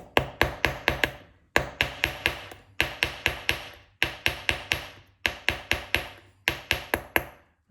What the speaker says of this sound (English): just very, very lightly hammer down on the surface